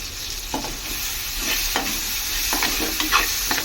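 Kasuri methi and curry leaves tempering in hot oil for dal tadka: a loud, continuous close-up sizzle with scraping stirs and small crackles.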